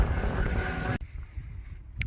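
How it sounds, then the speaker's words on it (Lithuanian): Strong wind gusting at an open outdoor training site while paragliders stay grounded, a loud broadband roar that cuts out abruptly after about a second, leaving a lower rumble with a brief gust at the end. "Tik tai vėjas viską blaško"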